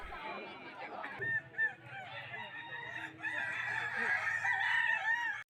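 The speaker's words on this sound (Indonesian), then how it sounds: "Inilah indahnya dunia ayam kukuak Balenggek." Kukuak balenggek chickens crow at a contest with long, layered, warbling calls that overlap and carry on loudly over a busy outdoor crowd murmur.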